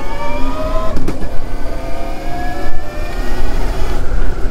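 A Lycke Busan 110 motorcycle engine revs up and down with rising and falling pitch, loud and close, running continuously through the whole stretch with no talk.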